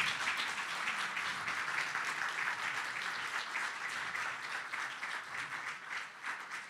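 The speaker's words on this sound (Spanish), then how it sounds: "Les pido primero un fuerte aplauso para Marcela Pallero." An audience at a cybersecurity regulation talk gives a hearty round of applause to speaker Marcela Pallero, dense continuous clapping that holds steady and close throughout.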